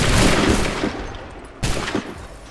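Dense volley of musket gunfire in Assassin's Creed 3, a loud rolling burst of overlapping shots that fades, then a second sharp burst of firing.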